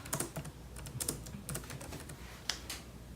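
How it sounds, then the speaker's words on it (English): Computer keyboard keys being typed in short irregular bursts, close and fairly quiet, as an image title is entered while applying to an art festival; no voices. "type in the image's title"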